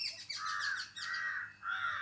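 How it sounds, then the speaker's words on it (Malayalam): Crows arriving to roost at dusk give harsh, loud caws, about three drawn-out calls in a row, close by with no voices. "കിളികൾ ചേക്കേറാൻ വന്നു തുടങ്ങി."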